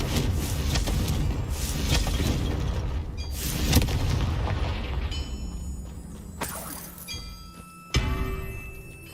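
Blasting-curse explosions in Hogwarts Legacy: a series of loud, booming magical blasts with crackling debris. Several heavy bursts fall across the span, with sharp impacts later on and no speech over them.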